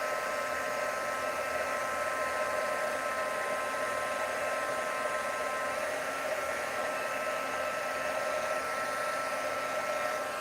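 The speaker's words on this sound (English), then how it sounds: "let's bring this heat gun in here again" A handheld heat gun blows with a steady, even whoosh of hot air, running continuously and close by for the whole stretch, with no voices.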